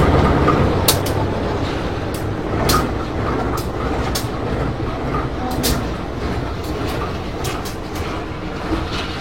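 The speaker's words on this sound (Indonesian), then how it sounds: "Ini kereta yang berangkat dari stasiun Cipendei" A train departs Cipendei station, rumbling with a steady low roar, punctuated by sharp metallic clicks and squeals from the wheels on the rails.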